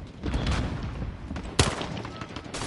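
Gunshots from the video game Call of Duty crack out in a short burst, with one sharp, louder blast near the middle over a noisy, dense battlefield background.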